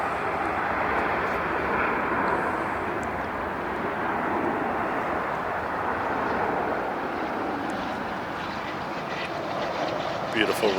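A heavy jet airliner landing or taking off at LAX, a broad continuous roar that holds steady and fills the whole stretch, loud and unbroken, with faint speech underneath.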